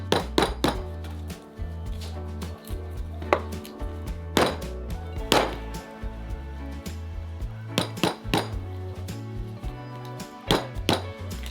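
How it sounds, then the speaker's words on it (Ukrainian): An eggplant being beaten hard on a kitchen board until soft, a series of loud irregular thwacks and knocks with sharp clinks, some in quick clusters, close and alone with no talk. "Беремо баклажан і добряче його б'ємо, поки він не стане м'яким"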